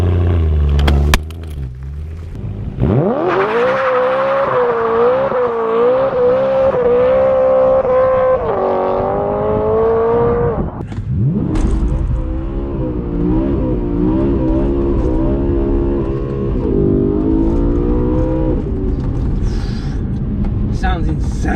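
A BMW E92 M3 with a loud new exhaust, in manual mode with traction control off, revs hard and accelerates close by. The engine note climbs through long rising pulls with gear shifts and brief lifts, and a voice speaks over it.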